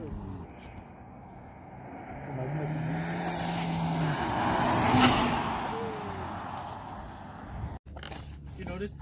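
A 2020 Honda Civic Si fitted with an aftermarket PRL air intake drives past, its engine note rising and swelling over several seconds before easing off, with a loud whoosh near the middle and people talking throughout.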